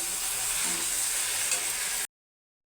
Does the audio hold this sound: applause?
no